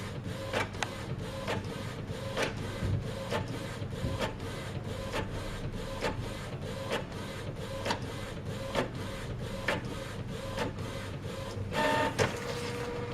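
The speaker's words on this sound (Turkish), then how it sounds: "Gördüğünüz gibi orijinal kalitesinde fotokopimizi aldık." An MX395 cartridge-system inkjet printer copying a page: a steady mechanical whir with a quick, regular run of clicks and taps from the print head moving, and a louder feed clatter near the end, with no talking.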